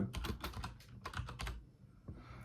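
Quick bursts of keystrokes on a computer keyboard while text is entered, clattering in close irregular runs, then pausing near the end; quiet and without voices.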